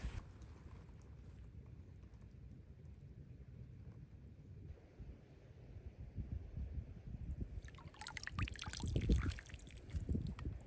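A cup dipped into outdoor water and strained through cloth, a steady low rushing wash that gives way to splashing and trickling water near the end, close to the microphone with wind in the background.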